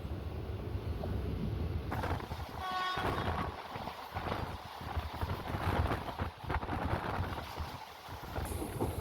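On board a Kollam–Alappuzha passenger train nearing Kayamkulam Junction, a steady loud rumble of wheels and carriages continues throughout, with a short horn blast early on and faint clatter.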